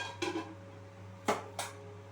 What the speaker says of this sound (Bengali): মশলাটা যাতে ভালো করে কপির মধ্যে মিশে যায়, আমি একটু ঢাকনা দিয়ে ঢেকে দিচ্ছি